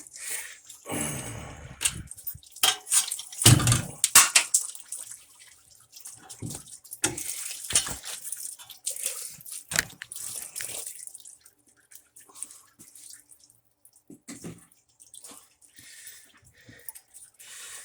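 Antifreeze gushes and splatters onto the floor while a power steering pump is removed from a Mopar, with irregular bursts of splashing and dripping separated by quieter gaps.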